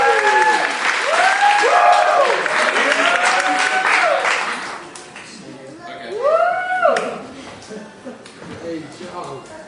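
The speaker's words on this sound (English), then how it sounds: "everybody give a big round of applause for Justin" Audience applause at a magic show, steady dense clapping from a crowd that swells, dips and rises again, with whistles and cheering voices mixed in throughout.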